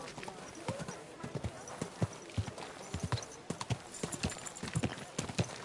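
Steady clip-clop of horse hooves trotting nearby in the video game Kingdom Come: Deliverance 2, rhythmic and distinct, with a voice speaking over it.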